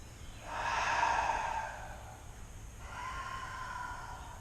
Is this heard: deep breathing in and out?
yes